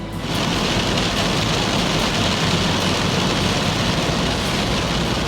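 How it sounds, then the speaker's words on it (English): Heavy rain pours down on the roof of a van during a stormy day in Vingelen, Norway, heard from inside as a loud, dense, unbroken roar of drumming with no break across the clip. "Yeah, the rain is a bit heavy at the moment"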